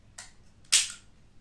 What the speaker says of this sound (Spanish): Movemos, disparo.